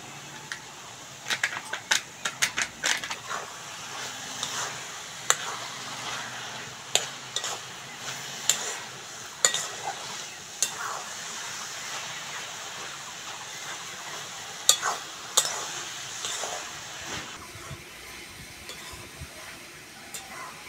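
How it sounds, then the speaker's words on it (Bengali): Milk being stirred into a cooking mixture with raisins in a pan, giving repeated scraping and clinking strokes in an irregular rhythm over a soft, steady sizzle, close and moderately quiet. "ভালো করে বন্ধুরা নেড়ে চেড়ে নিয়েছি, দুধটা ভালো করে মিশিয়ে দিয়েছি"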